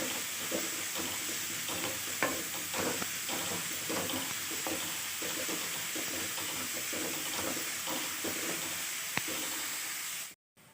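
Carrot frying in hot oil for a garlic-chilli carrot rice, a steady dense sizzle with occasional stirring scrapes and clicks, close and continuous, cutting off abruptly at the end.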